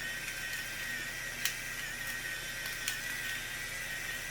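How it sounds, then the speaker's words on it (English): An electric pepper grinder running over a crock pot of chili, a faint thin high whir held steadily for a few seconds with a couple of small clicks, quiet and alone without speech. "I gotta put some pepper. I almost forgot about the pepper. With my little pepper grinder that I love."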